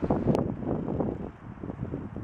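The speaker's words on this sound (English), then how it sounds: "Windy day." Wind buffets the microphone in heavy, gusty rumbling bursts, loud and close, rising and easing throughout, on a hike along the Paumanok Path.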